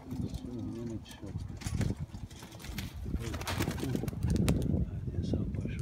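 Rust-coloured domestic pigeons coo softly in a loft, low throaty calls with occasional wing flutters, while someone talks over them throughout.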